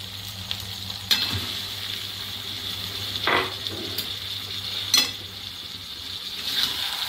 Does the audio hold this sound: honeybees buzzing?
no